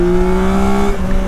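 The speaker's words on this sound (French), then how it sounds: "Oh, le moteur de la MT-09." The three-cylinder engine of a Yamaha Tracer 9 GT+ motorcycle, shared with the MT-09, revving loud and close in one sustained, tonal drone that wavers slightly in pitch.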